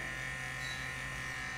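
An Asus gaming laptop's cooling fan whirs loudly and steadily, a constant buzzing drone with a fixed hum and no pauses, close by and alone.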